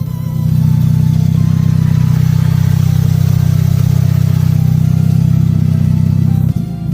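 A Honda folding-roof sports car's engine runs at a steady, loud, smooth idle with a constant low rumble and faint mechanical clatter, ending in a brief blip near the end.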